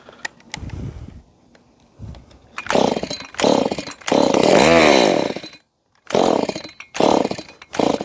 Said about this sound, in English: I know that this is the cheapest chainsaw that Stihl has ever made